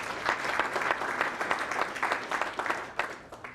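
Steady applause from a crowd at a bowling hall of fame ceremony, many hands clapping continuously at moderate distance, swelling slightly and then tapering near the end.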